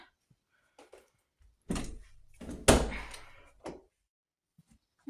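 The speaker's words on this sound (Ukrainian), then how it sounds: "Ідемо далі, закриваю двері." A door closes in an old village house under reconstruction, heard as a short creak and then a loud thudding close with a brief rattle, followed by a smaller knock and quiet room tone.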